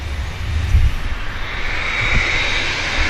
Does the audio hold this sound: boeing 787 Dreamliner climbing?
yes